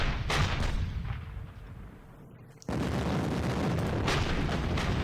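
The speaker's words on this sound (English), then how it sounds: "So we have these heavy mortars. We should hit them." Heavy mortar siege guns firing in the Panzer Campaigns Bulge 44 wargame: loud, dense booming blasts with rumbling tails, a brief dip in the middle, then another sustained barrage, no voices.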